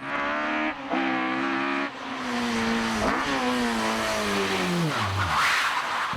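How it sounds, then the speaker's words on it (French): A Ford Escort Mark II rally car at the Legend Boucles de Bastogne 2023 rally shakedown holds loud, sustained engine revs, then the pitch falls steadily as it backs off, heard close with no talking. "a pris en main la fameuse Ford Escort Mark II PYB 106"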